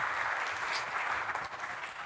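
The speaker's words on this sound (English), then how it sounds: "Can we have a round of applause, please?" An audience claps steadily for a couple of seconds, a dense wash of applause at moderate distance.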